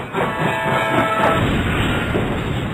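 A train sound effect: a loud, continuous broadband rumble and rattle of rolling rail cars, steady for nearly three seconds with no talking.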